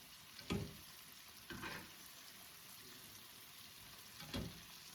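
Lemon-pepper cauliflower chicken frying in a pan makes a faint steady sizzle, broken by three short louder bursts as pieces are turned, with no talk.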